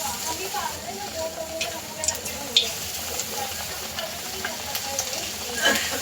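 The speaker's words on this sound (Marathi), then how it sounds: "आता आपण ह्याच तेलामध्ये आपले घोसाळ्याचे भजे पण टाकून घेऊया" Ridge gourd fritters (bhaje) dropped into hot oil already used for cauliflower fritters, giving a continuous bubbling sizzle with occasional pops and spatters, a voice faintly underneath.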